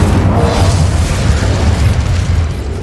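A loud, sustained fiery blast from the Incendio fire spell in the video game Hogwarts Legacy, a rumbling, crackling roar of flame that holds steady, then eases slightly toward the end.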